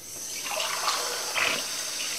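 Water is poured into a pot of fish curry base for dosa, making a rushing, splashing pour in two short bursts over kitchen hiss, with no talking.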